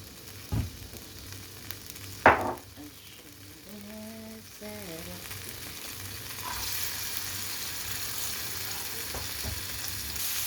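Oil heats in a pan before chicken is fried, a soft continuous sizzle with a couple of sharp clanks early on and a brief tonal squeak, the frying swelling louder toward the end.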